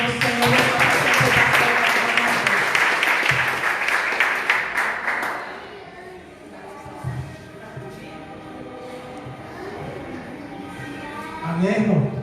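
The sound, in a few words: church congregation applauding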